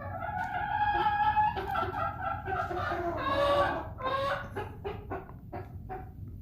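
Chickens cluck and call close by, a run of overlapping throaty notes that grows busier toward the end.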